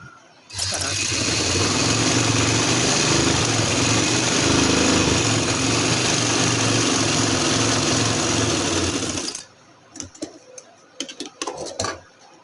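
An electric sewing machine stitches the side seam of a baby girl's frock, a loud continuous motor whir running for about nine seconds, then stopping and giving way to short intermittent bursts.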